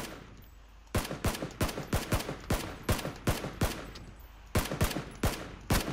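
Rapid rifle gunfire in PlayerUnknown's Battlegrounds: a string of about fifteen sharp, loud shots in fairly even succession with one short pause, each with a hard crack and quick decay.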